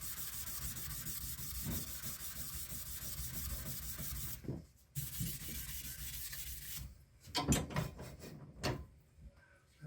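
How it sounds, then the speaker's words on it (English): Sandpaper on a block rubs steadily back and forth over a firearm in repeated close strokes, with brief pauses between passes and no talking. "you'll be sanding pretty much in the same direction every time, all the way up to your finished product"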